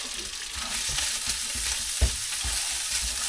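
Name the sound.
stir-frying egg foo young in a pan in a van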